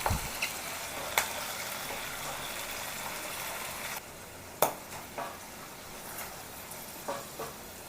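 Kanthari chillies fry in a pan for pickle, giving a soft continuous sizzle broken by several sharp clinks and scrapes as the mixture is stirred close by.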